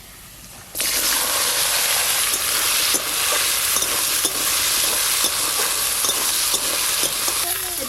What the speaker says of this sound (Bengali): এদিকে মাংসের আলুগুলো একদম লাল লাল করে ভাজা হয়ে গেছে